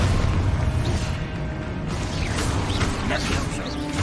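The Expulso spell detonates in Hogwarts Legacy, a loud booming blast at the start that rumbles on with crackling debris and combat effects across several seconds, while a voice speaks over the fight.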